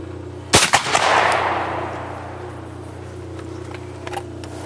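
A shotgun blasts once at a skeet clay target on an outdoor range, a loud sharp report followed by a long rolling echo that fades over several seconds, with a steady background hum and no talking.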